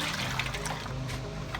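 Protect ESD-200 liquid coating pouring steadily with a continuous watery trickle and splash, close by, lasting the whole short stretch.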